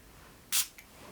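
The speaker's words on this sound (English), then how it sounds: "Spritz just a little bit." A single short burst from a spray bottle, one quick spritz with a fainter puff just after, heard alone in a quiet room.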